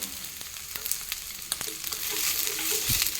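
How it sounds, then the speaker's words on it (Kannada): Sliced pathrode, colocasia leaf rolls, frying in oil in a pan, with a steady close sizzle and occasional soft pops and stirring clinks, alone with no talk. "ವಾಪಸ್ ಎಣ್ಣೆಯಲ್ಲಿ ಫ್ರೈ ಮಾಡ್ತಾ ಇದ್ದೇನೆ."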